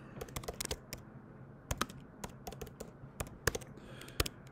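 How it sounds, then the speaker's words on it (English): Fingers tap out a client's name on a computer keyboard, a quiet, close series of irregular clicky keystrokes with short pauses between bursts. "type in the client's name."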